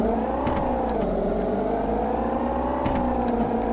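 A rough, steady engine drone runs throughout with a slightly uneven note and a few sharp clicks, like a game car idling and cruising, from an old banger in the game Auto Sale Life.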